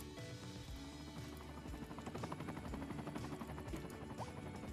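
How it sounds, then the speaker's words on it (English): A helicopter in the city-building game Cities Skylines 2 gives a steady, faint rotor thump with a rapid rhythmic chop that runs throughout, with no talk. "What is this helicopter doing here?"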